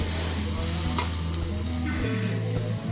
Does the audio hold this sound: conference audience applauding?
no